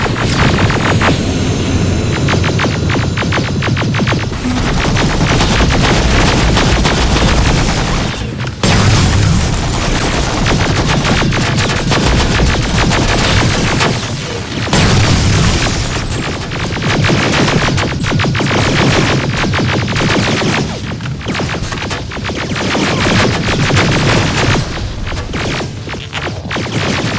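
Heavy gunfire fills a firefight in the video game Terminator: Resistance, loud and dense, with rapid bursts and booming impacts packed together almost without a break, and brief lulls between volleys.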